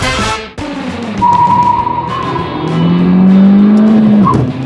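Peugeot 208 GT THP car on a race track, engine note rising steadily as it accelerates hard, with a brief tire squeal near the end; loud and close, no talking.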